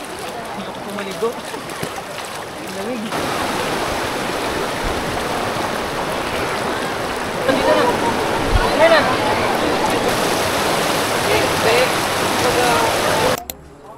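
Steady broadband rush of the river at Daraitan in Tanay, Rizal, Philippines, flowing continuously at close range with a slight surge partway through, with no speech over it.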